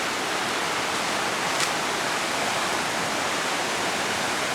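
The flooded Right Fork Holly River in Webster County, West Virginia, rushes past as a loud, steady broadband roar of torrential water, close and constant with no voices.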